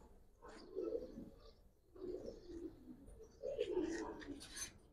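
Young Giribaz pigeons coo in three soft, throaty bursts with short pauses between, close by and moderately quiet, with faint higher rustling near the end.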